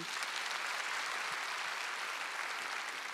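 A church congregation at a Wednesday worship service breaks into dense, continuous applause, a loud, even wash of many hands clapping with no pauses and no voices on top.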